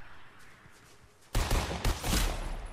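A rocket fired at a house in Fortnite sets off a loud, sudden blast that swells into a rumbling explosion with a second surge of debris noise, following a quiet stretch.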